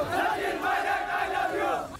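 A large crowd of Sachin Pilot supporters in Dausa, Rajasthan, chanting slogans in unison, a loud, sustained rhythmic roar of many voices at a political rally.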